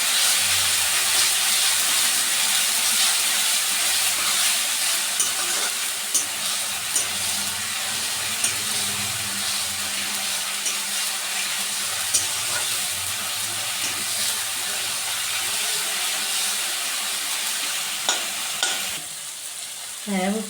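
Masala with green chilli paste slowly sautéed for boal fish, giving a continuous close hissing sizzle for about twenty seconds, with soft stirring scrapes and small clicks scattered through it and no speech.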